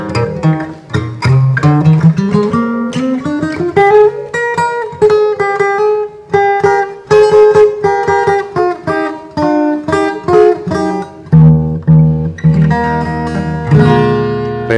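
An old acoustic guitar plays a song intro as a quick, continuous run of plucked notes and chords, close and loud, with no talking.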